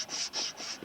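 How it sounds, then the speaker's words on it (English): A reddish hardwood block, something like maple, is rubbed flat against a file in three or four quick rasping strokes, close and faint. "I'm making the base very flat on a file"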